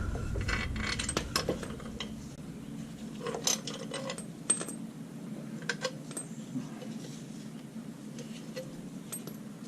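A ratchet tightens bolts on the structural cover of a 2013 Dodge Durango with a Hemi engine, giving close, quiet bursts of rapid clicking and metallic clinks over low background hum, no talking.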